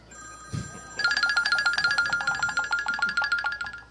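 An electronic phone ringtone plays a rapid repeating bright melodic pattern, steady and fairly loud, after a brief thump at the start.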